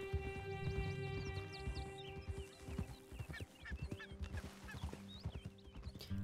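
Horse hooves clip-clop steadily in Red Dead Redemption 2, an uneven run of close, sharp hoof beats over a droning background with bird-like honks and a whinny mixed in, no talk.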